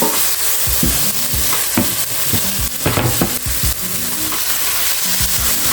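Ghee sizzles steadily in a pan while a spoon stirs and scrapes in repeated bursts, an early step in cooking seafood biryani; loud and close, with no talking.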